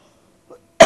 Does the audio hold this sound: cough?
yes